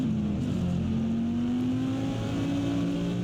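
TCR and LMP3 race cars at Watkins Glen, heard as a steady engine drone with a slowly rising pitch, moderately distant and continuous, with no talk.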